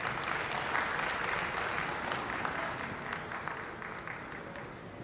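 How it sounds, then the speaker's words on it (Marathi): An audience at the trailer launch event for the Marathi film Dharmaveer 2 applauds, producing a sustained, even roar of many hands clapping that slowly tapers off. "यांच्याकडे एकदा जोरदार टाळ्या झाल्या पाहिजे."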